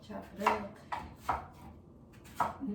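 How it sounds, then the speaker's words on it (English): A knife chops produce for juicing on a cutting board, with four distinct, moderately loud thunks spaced irregularly and soft background sounds between them. "So I chop it up"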